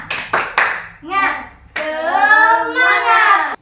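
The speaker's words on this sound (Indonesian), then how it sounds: "sekarang kita ice breakingnya tepuk semangat" A classroom starts a tepuk semangat ice-breaker: three sharp, close, rhythmic hand claps come first, and then voices chant loudly together.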